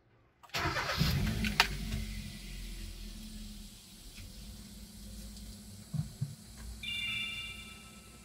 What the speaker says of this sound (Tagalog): Ngayon start natin yung kotse para ma-vent yung mga hangin pa na natitira.